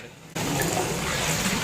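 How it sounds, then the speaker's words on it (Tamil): Water is poured into a large pot of vegetable biryani with rice, a sudden steady gushing stream that starts abruptly and continues loudly to the end. "தேவையான அளவுக்கு தண்ணியை ஊற்றுறோம்."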